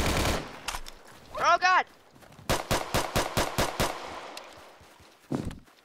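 Rapid automatic gunfire in the Roblox Vietnam War shooter Unit 1968: Vietnam, an opening burst and then a steady run of about eight evenly spaced loud shots, with a short shouted exclamation between them and a final shot at the end.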